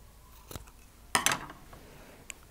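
Scissors snip through an old cotton t-shirt, cutting it in half: a faint cut, then a louder crisp burst of snipping that lasts about half a second, close by in a quiet room.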